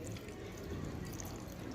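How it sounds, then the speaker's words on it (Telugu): Tamarind juice is poured into a crab curry cooking village-style over a wood fire, making a short, steady liquid rush with bubbling close by. "ఇప్పుడు మన కూరకి చింతపండు పులుసు వేసేస్తున్నాను."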